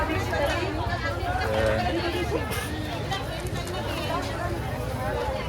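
Dense crowd babble at a busy Indian village market, many overlapping voices and footsteps blending into a constant mid-level hubbub with a nearer voice talking within it.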